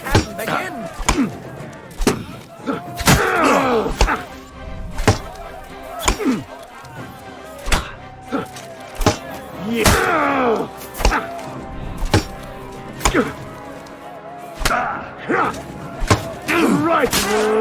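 Blunt wooden-sounding clashes and thuds from a one-handed weapon duel in Kingdom Come Deliverance II, arriving in uneven bursts of sharp strikes over about seventeen seconds, with voices and crowd noise underneath.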